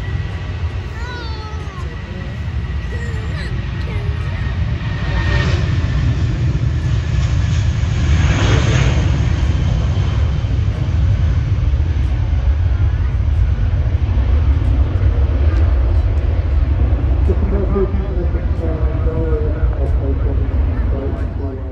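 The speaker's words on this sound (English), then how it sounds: "White livery TUI then takes off." A white TUI airliner taking off at Manchester Airport, its engines building into a loud, steady roar that holds throughout, with a voice talking over it.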